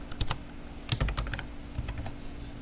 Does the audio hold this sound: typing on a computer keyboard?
yes